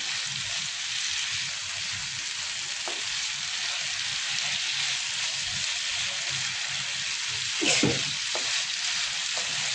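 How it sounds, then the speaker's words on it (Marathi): Paneer chilli sizzles and fries in a pan, with a constant hiss and occasional stirring scrapes and clinks from the spoon, close and steady. "आता मी गॅस थोडा वाढवते आणि व्यवस्थित मिक्स करून घेते"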